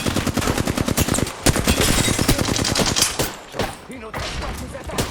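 Rapid automatic gunfire from an online shooter game rattles in fast close bursts, then thins to scattered shots and pauses.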